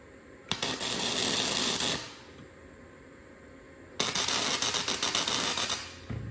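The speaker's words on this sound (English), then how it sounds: "I'm gonna go ahead and tack them into place just so I can test fit everything" Steel brackets for a garage winch mount being tack welded, two bursts of crackling, sputtering arc noise about a second and a half and two and a half seconds long, close and fairly loud, separated by a quiet pause.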